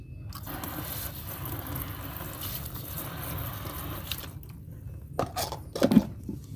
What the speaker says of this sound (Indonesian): Kita siram dulu biar lebih jelas.